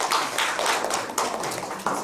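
An audience applauding in a university teaching-methods lecture hall: a brief, dense patter of many hands clapping together, fairly close and steady, with no speech.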